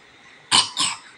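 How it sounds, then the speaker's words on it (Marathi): A child with a cold gives two quick, close coughs in a row, harsh and throaty, in an otherwise quiet room. "खोकला झाला."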